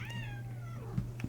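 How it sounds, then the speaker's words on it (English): A cat meows at a door, giving one drawn-out, rising and falling cry up close. A steady low hum runs underneath, and two soft knocks follow. "She's meowing at the door."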